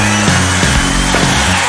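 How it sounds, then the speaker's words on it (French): A mechanical power saw drones loudly and continuously at close range, its motor pitch shifting slightly as it cuts, with no talk over it. "cette scie mécanique fait quand même un petit peu de bruit"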